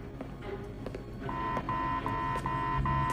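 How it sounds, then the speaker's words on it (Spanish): Fire alarm aboard the cruise ship Regent Queen: steady repeating electronic beeps, four or five evenly spaced tones, over a low rumbling background, growing louder near the end. "alarma de incendio"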